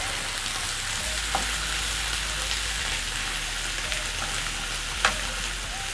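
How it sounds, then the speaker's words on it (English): Onions frying slowly over medium heat in a pan for grilled cheese sandwiches give a steady, moderate sizzle, with a low hum underneath and a couple of faint utensil taps. "reduce it to medium so that your onions can cook slowly"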